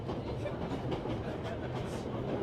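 Steady low rumble of a train rolling along rails in 11-11: Memories Retold, a continuous mechanical drone with faint rhythmic rattle throughout.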